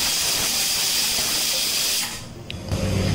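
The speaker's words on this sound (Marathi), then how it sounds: "जवळपास कुकरच्या 5 शिट्ट्या येईपर्यंत आपण थांबायचं" A pressure cooker cooking mutton lets off a loud, steady hiss of escaping steam with a high whistling edge for about two seconds, then drops away to a quieter, brief rattle before the steam surges back.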